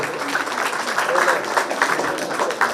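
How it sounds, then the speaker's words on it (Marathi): A crowd claps together at an honoring ceremony in a steady burst of applause lasting a couple of seconds, with a voice faintly mixed underneath. "सर्वांनी महाराजांसाठी सुद्धा एकदा जोरदार टाळ्या"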